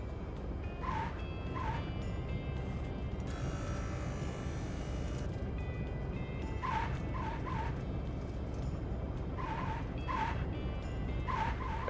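Brakes on a Cirrus SR20 in X-Plane 11 squeal in short, repeated, chirping bursts over a steady engine drone, with no talking.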